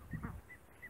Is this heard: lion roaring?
no